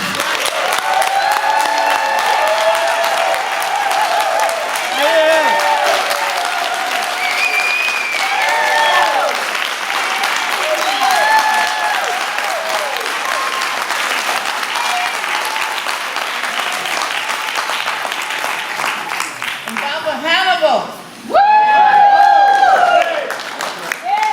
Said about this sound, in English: that ain't a good enough applause for her